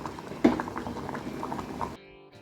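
A pot of lentils and spinach simmers with soft bubbling and popping, close and moderately quiet, with one sharper plop early on before the sound cuts off abruptly.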